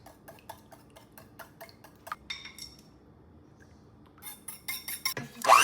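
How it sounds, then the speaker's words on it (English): A whisk beats a plant-based milk mixture in a bowl, making quiet, evenly spaced metallic clinks and ticks with short pauses, then a louder flurry of strokes at the end. "And now we're gonna whisk it"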